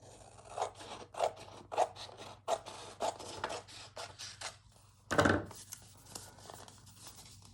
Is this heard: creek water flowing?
no